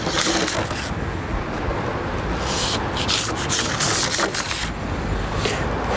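Paint is scrubbed off rusted metal with a loud, continuous abrasive rubbing and sanding sound, close up, with uneven bursts of harsher scraping.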